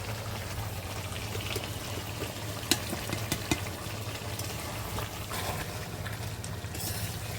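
Duck meat with ground and paste chili frying and being stirred in a pan, a soft continuous sizzle with a few sharp scraping clicks from the spatula midway, fairly quiet and unbroken by talk.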